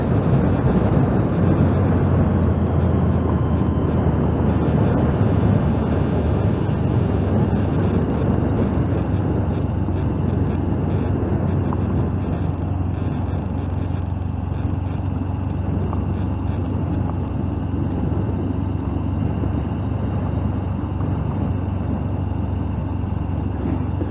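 A 2023 Honda CB125F ridden at speed along a rough dirt bush road, heard as a constant engine drone buried in heavy wind rumble, unbroken for the whole stretch with no speech.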